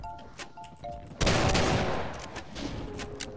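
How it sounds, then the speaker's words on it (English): Gunfire from a double-barrel shotgun in the video game Doom The Golden Souls, with a loud, sudden blast at about a second in that rings on in a dense wash, after several softer shots and game sounds before it. "I really like this shotgun, too. The little double-barrel shotgun."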